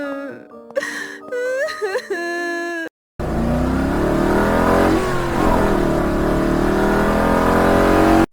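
A motorcycle engine revs loudly and steadily up close for several seconds, following a brief burst of whining, moaning tones.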